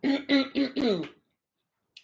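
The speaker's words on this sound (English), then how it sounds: "Had to clear my throat." Someone clears their throat in four rough, rapid bursts, close and loud, followed by silence.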